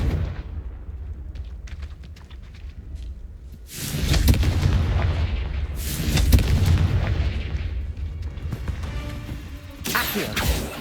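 Heavy blasting-spell explosions in Hogwarts Legacy boom out in a few loud bursts over a rumbling game background, with no talking.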